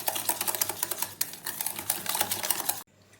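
A whisk beats Amul dahi yogurt in a bowl, making rapid, clicking strokes in an irregular rhythm, close and fairly loud, that stop abruptly near the end.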